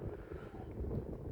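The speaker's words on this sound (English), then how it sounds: "it's too windy" Strong gusts of roughly 20–25 mph buffet the microphone at an outdoor RC flying field, a steady low rumble close and loud with no talk over it.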